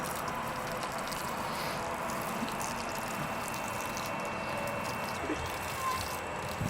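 A garden hose runs at a family house in New Mexico, giving a steady, fairly quiet hiss of flowing water, with faint voices in the background.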